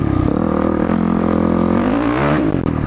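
A Yamaha WR450F dirt bike in second gear, its engine droning loud and close, then throttle blips rising in pitch near the end.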